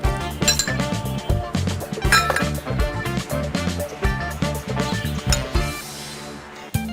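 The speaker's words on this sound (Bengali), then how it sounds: "দেখুন আমি এখন এই ডুমুর এবং মশলা খুব সুন্দরভাবে মিক্স করে ফেলবো।" A bowl of mashed green figs and spices being mixed by hand, giving a steady run of close clinks and scrapes against the bowl with a quiet hum underneath.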